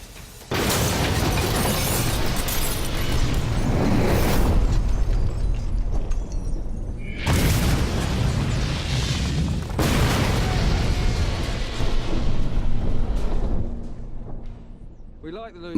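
Homemade Lewis bomb exploding inside a modern car reputed to be indestructible, a sudden loud blast followed by a long roaring rumble and further heavy bursts, with a voice narrating.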